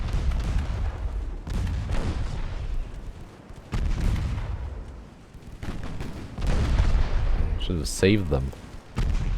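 Mark III 7-inch naval guns firing in a naval warfare video game, heard as repeated deep booming blasts with rumbling tails across the whole stretch, loud and close, while someone talks over them.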